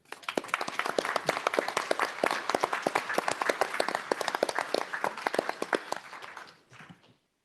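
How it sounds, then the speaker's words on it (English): A room of attendees at a board of directors meeting gives a round of applause for the leader and staff: dense, steady clapping for about six seconds that thins out and stops. "I want to give him and the staff a round of applause"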